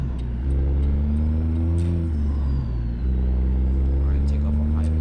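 Truck in American Truck Simulator pulling away on a highway, a deep low engine rumble rising through gears with a short dip between shifts, loud and steady throughout.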